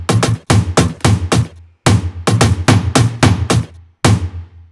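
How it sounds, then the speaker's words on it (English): Marching drum samples from the Kashmir pack play through a drum sampler in a Latin trap beat: loud, dry snare-like hits in rapid rolled bursts, several groups separated by short gaps, with no voices. "Production of the song begins with this particular marching drum kind of a sound"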